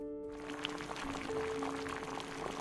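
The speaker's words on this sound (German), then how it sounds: "Ein Schuss kaltes Wasser rein, um den Kochvorgang zu verlangsamen." A splash of cold water is poured into a pot of boiling dumplings, giving a steady close pouring and bubbling wash that lasts a couple of seconds over a faint background hum.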